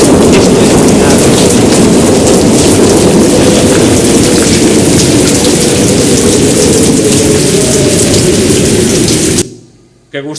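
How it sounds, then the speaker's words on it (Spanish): Heavy rain pours steadily and loudly with a deep, rolling rumble of thunder underneath, a dense wash that holds for about nine seconds before cutting out abruptly. "empezó a escucharse los truenos, empezó a escucharse como la lluvia caía"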